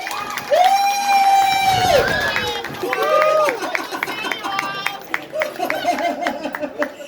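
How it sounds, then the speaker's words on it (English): A crowd of children and adults at an end-of-summer-class celebration for Igbo kids cheers and whoops loudly, with high, drawn-out shouts and scattered clapping mixed with lively chatter. "Can we give her a big round of applause?"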